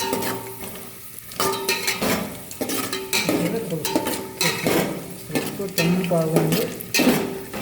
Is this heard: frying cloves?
yes